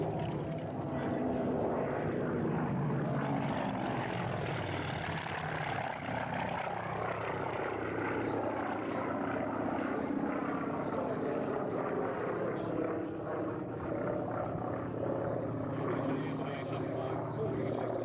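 A vintage warbird propeller plane roars past at an air show in Wanaka, a loud engine drone that rises and sweeps in pitch as it passes, with an announcer talking over it.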